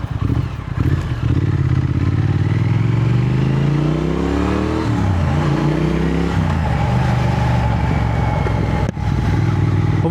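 A Triumph Thruxton motorcycle with a decatted exhaust rumbles loud and close, its throaty engine rising in pitch as it revs up, then dropping and settling back to a steady idle.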